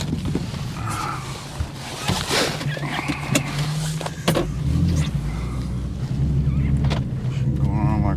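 A BMW F82 warming up for drift practice, engine note rising and falling under revs, with bursts of tire and mechanical noise, close and loud, while people talk over it.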